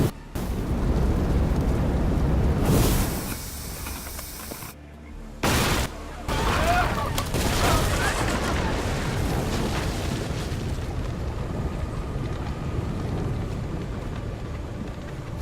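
Booming cannon fire and rumbling explosions from a naval battle in Assassin's Creed Odyssey, loud and sustained over about fifteen seconds, with a short break partway through and a heavy wash of blasts continuing afterward.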